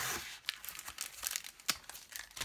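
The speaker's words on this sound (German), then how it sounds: "wenn man Tesafilm abkriegt." Sticky tape peeled off a LEGO Nexo Knights booster pack, giving close, dry crinkling and tearing crackles in uneven bursts, with a few sharper snaps.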